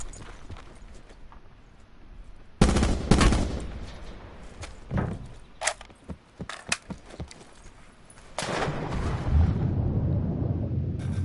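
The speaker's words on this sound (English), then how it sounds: "Hear a bunch of shots over like at Bridge Barn" Several bursts of gunfire ring out in a battle-royale style video game, some loud and close, others scattered and sharper, with a steady rumbling bed of game ambience underneath that swells again toward the end.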